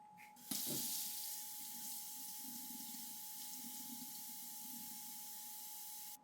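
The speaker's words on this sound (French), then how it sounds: "J'ai rajouté de l'eau à l'intérieur." Water runs from a tap into a container in a steady, hissing stream that starts abruptly after a brief clunk and continues evenly at close range.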